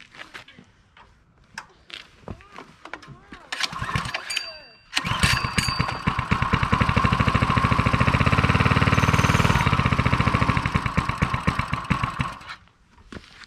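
A Coleman CC100X mini bike's small engine is pulled over, catches and starts, then runs steadily and loudly up close for several seconds before cutting off, with people talking around it.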